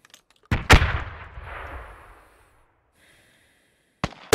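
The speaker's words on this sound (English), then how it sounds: "Grenade went over." A grenade detonates in the military shooter game Squad: a loud, sharp blast followed by a rumbling decay lasting about two seconds, then quiet, with another abrupt loud burst near the end.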